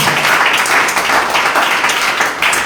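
A church congregation claps hands in a loud, dense burst of rhythmic clapping, steady from start to finish.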